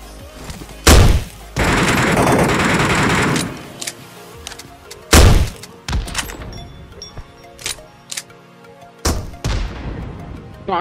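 Bursts of automatic gunfire in the mobile game PUBG Mobile Metro Royale ring out loud and close, with long sustained volleys, sharp single booms and scattered shorter shots between quieter gaps.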